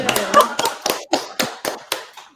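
A small group clapping hands in a quick, slightly uneven burst of about ten claps that trails off, close and fairly loud.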